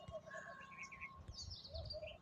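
Pigeons perched on a house rooftop, with faint chirps and soft coos over low background rumble, distant and quiet, brief.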